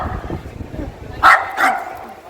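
A dog barks at a cow statue on a city street in Spain, two sharp close barks after a stretch of background noise, with a voice talking faintly.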